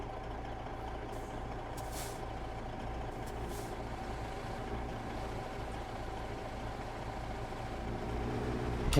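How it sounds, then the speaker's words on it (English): Kenworth truck engine in American Truck Simulator, a steady low idling drone with constant rumble and a couple of brief hissy air-brake releases, swelling slightly louder at the end. "let's enjoy the sound that is the Kenworth engine"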